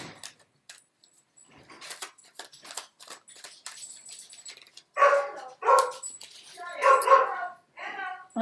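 Several dogs in a house bark and yip in loud bursts during the second half, after a quieter stretch of clinking and small movement noises.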